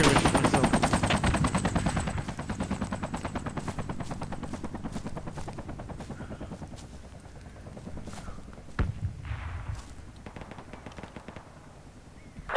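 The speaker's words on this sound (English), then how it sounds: "Is the chopper bringing supplies?" A military helicopter in the Project Reality video game, its rotor chop thumping steadily and loudly throughout, with bursts of machine-gun fire and gunshots around it.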